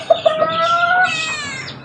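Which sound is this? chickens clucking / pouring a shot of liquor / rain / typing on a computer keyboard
chickens clucking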